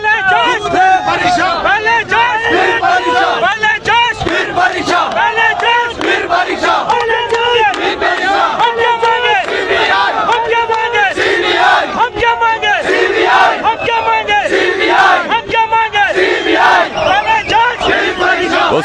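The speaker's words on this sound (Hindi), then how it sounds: "काफी बड़ी भीड़ है, निसंदेह बहुत बड़ी भीड़ है यहाँ पर" A large crowd of young students protests outdoors, demanding a CBI inquiry before the UKPSC patwari exam, with continuous loud chanting and shouting in unison that rises and falls rhythmically throughout, close and dense.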